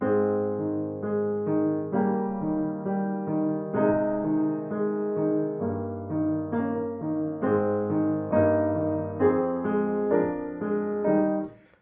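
Solo piano plays a steady passage in which every note sounds at the same volume, with no melody standing out above the accompaniment.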